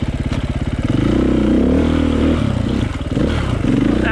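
A dirt bike engine revs hard and continuously on a single-track trail, loud and close with clattering over the rough ground.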